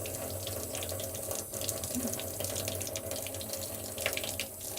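Tap water runs steadily into a sink as washed hands are rinsed under it, a close, continuous splashing flow with small variations and no talking.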